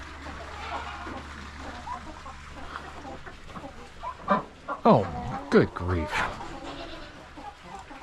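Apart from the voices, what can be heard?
chickens and rooster clucking at bedtime on a farm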